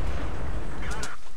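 A heavy tank cannon shot in World of Tanks, fired from a WZ-132 light tank on a flank, comes as a loud low booming blast over continuous battle rumble, followed by a brief higher whoosh near the end.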